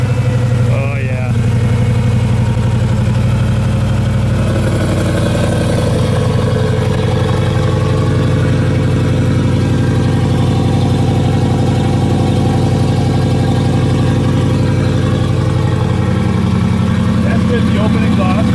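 A deep, steady Hemi V8 idle in a 500 HP Jeep JK rumbles throughout with a loud, throaty open exhaust note, holding a constant low drone with little change in pitch.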